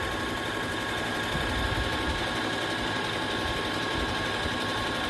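A sewing machine stitching a seam on a homemade fabric face mask runs in one steady, loud, continuous whir close by, with no talking.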